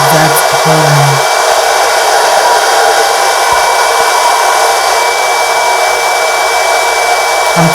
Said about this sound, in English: Going in with the blow dryer again to make it dry a bit, make it tacky, before putting the wig on the exact hairline.